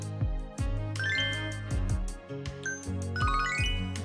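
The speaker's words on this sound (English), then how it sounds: "A phone call." An in-game phone rings in Yakuza 0 as a repeating chiming jingle of bright tinkling notes with low pulsing accents, playing for several seconds without any talk.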